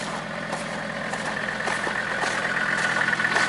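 A Mercedes engine runs at high idle in the snow, a short, steady, close mechanical hum with a faint rising whine and no voices.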